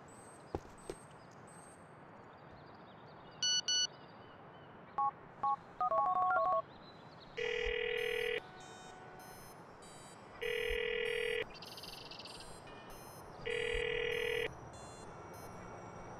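A mobile phone in GTA IV: a few soft taps and button beeps, a burst of keypad dialing tones, then three evenly spaced long ringback tones with quiet pauses between them.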